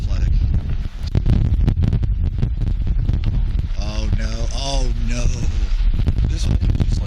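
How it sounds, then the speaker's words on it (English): Strong wind gusting across an open golf course, a steady low rumbling buffet against the microphone that lasts throughout while several people talk over it. "this wind is just like cutting through my jacket"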